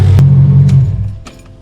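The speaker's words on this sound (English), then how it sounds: "I will go ahead and turn off the car." A Mercedes engine idles with a steady low hum that cuts out as the car is switched off, leaving a fading rumble and a few faint clicks, close and alone.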